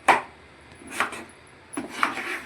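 Three scraping, thudding strokes of a spoon working through thick roasted-gram halwa in a pan, spaced about a second apart, fairly quiet.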